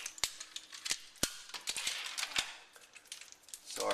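Sharp, sparse clicks and snaps of glass tiles being cut, close and fairly quiet, irregularly spaced with no talking.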